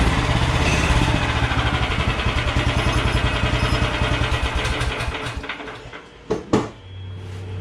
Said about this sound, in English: this is a torquey little motor. You can see it idles good